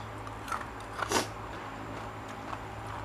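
Spicy Thai shrimp papaya salad loaded with chilies is being eaten at a beauty salon. Close, quiet bites and chews come in a few short crunchy bursts, the sharpest near the middle, over a low steady background hum.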